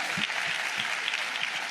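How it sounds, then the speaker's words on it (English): An audience applauds frontline activists at a 2019 presidential forum on environmental justice, dense steady clapping filling the short stretch without pause. "let's give all our frontline activists a big round of applause"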